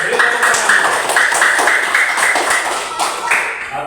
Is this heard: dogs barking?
no